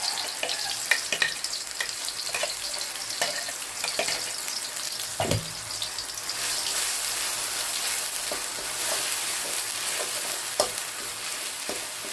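Green curry paste stir-fries in a pan with a steady, hissing sizzle like light rain, marked by repeated soft clicks and scrapes of a spatula, close and moderately loud.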